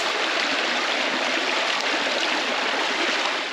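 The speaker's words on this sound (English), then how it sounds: "we thought we'd have a walk up the back of this freshwater stream that runs right next to the camp" A freshwater stream runs right beside a hot outback camp, its steady rushing, gurgling flow close and constant throughout with nothing else heard.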